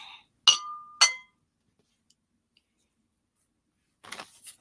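A drinking glass clinks sharply twice in quick succession as it is picked up and handled, followed by quiet, then a brief soft rustle of handling noise.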